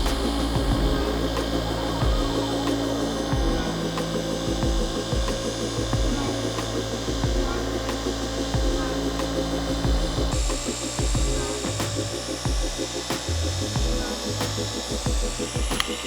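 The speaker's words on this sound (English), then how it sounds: "now we're gonna go back and slowly work that compound" Polisher working compound into classic car paint on a medium cut pad, a continuous loud whirring drone with repeated rubbing sweeps, close and steady throughout.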